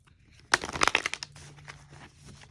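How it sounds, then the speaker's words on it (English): Oracle card deck being shuffled by hand, a short burst of crisp riffling and flicking card sounds followed by softer shuffling rustles, close and fairly loud, no voices. "Let's give it one more shuffle."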